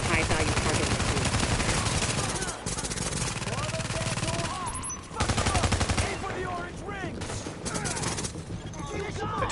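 Sustained automatic gunfire from The Division video game, with bursts and volleys stacked densely throughout, loud and close, with brief dips in between and voices talking over parts of the fighting.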